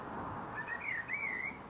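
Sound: blackbird singing

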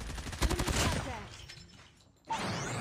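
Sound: Chopper light machine gun gunfire in a video game

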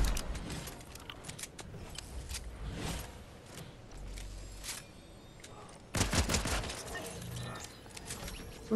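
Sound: gunfire in Fortnite, a video game

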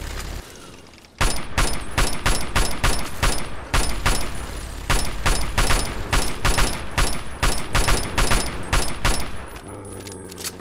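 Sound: assault rifle gunfire in the video game Fallout 3

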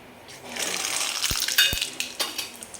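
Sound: mustard seeds added to hot oil in a kadhai

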